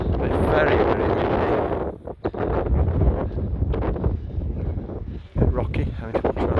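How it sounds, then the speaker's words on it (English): Strong wind buffets the microphone on a rocky, sandy beach walk near Corralejo, a steady loud roar with gusty surges and brief lulls throughout. "But it's very, very windy."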